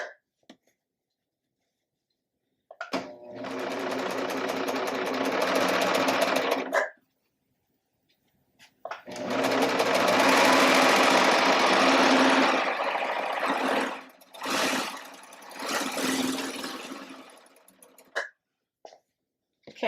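Serger overlocking the last side of a quilt, running in two long steady bursts with a few short stops and starts between them, close and loud with no talking.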